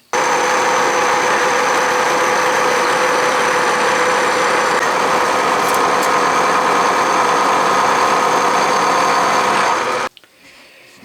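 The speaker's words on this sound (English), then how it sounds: "let me start by squaring up, truing up, and removing the flame cut marks off of this edge" Milling machine truing up the flame-cut edge of a steel plate, a loud, steady mechanical whir and hum that runs unbroken for about ten seconds before stopping abruptly.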